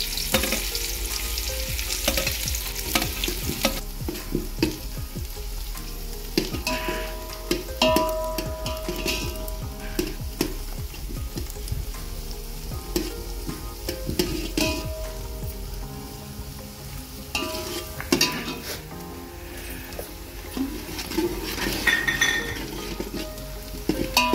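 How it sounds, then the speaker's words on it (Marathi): Chopped onion frying in two ladles of hot oil in a pot for a wood-fire village-style chicken curry, a steady loud sizzle with occasional stirring scrapes and light clinks of utensils against the pot throughout. "ते तेल तापलेलं आहे, त्याच्यामध्ये आपण हा कांदा ॲड करूया।"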